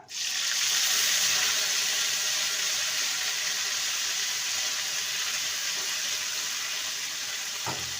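Ginger paste hits hot oil with a tempering of asafoetida for a vegetarian potato dum, giving a steady, loud, hissing sizzle that holds evenly throughout with no talking.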